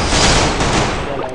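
Gunfire in a multiplayer shooter match, a loud dense burst of rapid shots that fades slightly toward the end.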